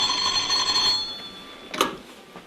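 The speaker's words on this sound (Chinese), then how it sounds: "姜文书打来的电话。" A telephone bell rings for an incoming call, a bright metallic ringing for about a second that stops, followed by a short clatter as the receiver is picked up.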